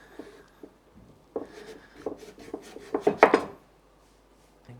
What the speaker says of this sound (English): I'm just going to cut this in chunks. So first I'm going to make big slices.